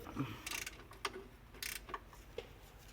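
Ratchet cranked to tighten a camber adjustment, giving several quick clicking bursts at an uneven pace, close but quiet against faint background noise, with no talking.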